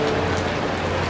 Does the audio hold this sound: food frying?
no